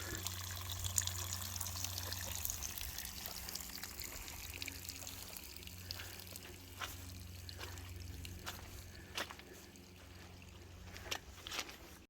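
Continuous soft trickle of water from a natural spring on a hike near Franklin, North Carolina, steady and fairly close, with a low hum and occasional light splashes.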